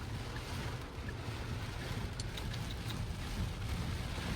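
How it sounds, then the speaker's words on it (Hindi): Steady, dense roar of heavy rain pouring down after a hailstorm, broadband and constant with faint wind noise, no voices. "ये देखें, तूफानी ओलों के बाद अब तूफानी बारिश स्टार्ट हो गई है"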